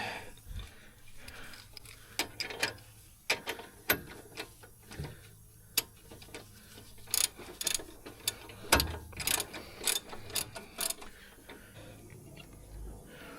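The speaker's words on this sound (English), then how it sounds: "and then we will torque it down with the torque wrench" A torque wrench ratchets in scattered sharp clicks while tightening a new axle bolt on a Mercedes C300 4matic W205 during a front CV joint replacement, quiet and close with irregular bursts and no talk.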